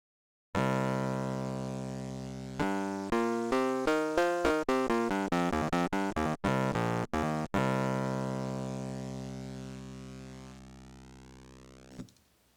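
Scarbee Pianet electric piano run through a Softube Auto 8-bit effect, playing sustained chords and a stepping run of crunchy, bit-reduced notes that ring out and then decay, heard alone.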